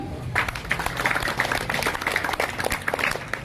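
Audience clapping at a village gathering, a dense ongoing patter of many hands at moderate distance with a voice audible beneath it.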